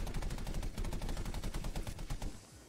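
Rapid machine-gun fire from a Bf 109 fighter plane in a video game on the Hamada map, loud continuous bursts of closely spaced shots with no pauses.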